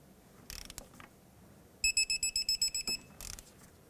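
A torque wrench being tightened on a castle nut on the tie rod of a 2001-2007 Toyota Highlander, giving a quick run of about eight rapid ratcheting clicks between a few softer mechanical clunks, close and fairly quiet.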